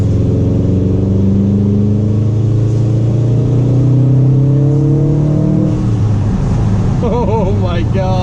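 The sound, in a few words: 2019 Subaru STI revving with Remark axle-back exhaust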